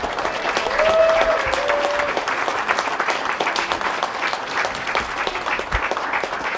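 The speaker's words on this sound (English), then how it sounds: "Let's give Governor another round of great applause." An audience at an academic building grand opening gives the governor a round of applause, a dense, sustained wash of clapping close by that swells early and then holds steady, with a voice briefly heard over it.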